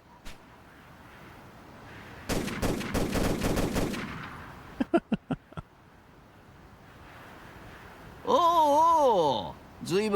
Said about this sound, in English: And they're shooting.